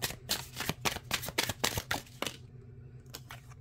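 Tarot cards riffled and shuffled in a rapid run of crisp, papery flutters, then a few separate taps and slaps as single cards are laid down on a surface, close and clear.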